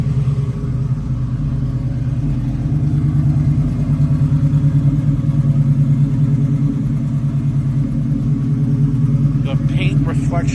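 A 1967 Chevrolet Camaro engine runs at a steady, deep idle, loud and close, its even rumble carrying on for about ten seconds.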